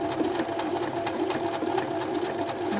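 A domestic sewing machine stitches along the edge of fabric pieces for a small pouch, a continuous close rapid whirring with even rhythmic needle strokes throughout.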